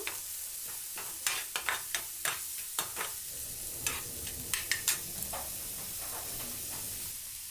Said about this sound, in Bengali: তো পেঁয়াজটা একটু নাড়াচাড়া করে নেব